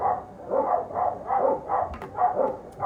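Several dogs bark steadily in a shelter office, a run of quick, rhythmic barks at moderate distance, fairly soft, with no talking.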